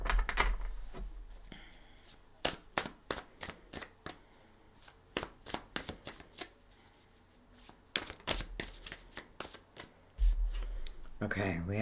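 Tarot and oracle cards are shuffled in a long run of crisp riffling bursts and flicks close to the microphone, with a low rumble and a brief voice near the end.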